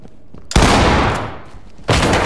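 In the tactical shooter Ready Or Not, a loud close shotgun blast breaches a hotel door, followed moments later by a second sharp bang from a flashbang.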